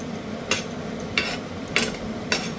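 Ground cumin and black pepper paste stirred into a thin fish broth in a pot, four distinct swishing scrapes at regular intervals over a soft simmering hiss, nearby and without speech.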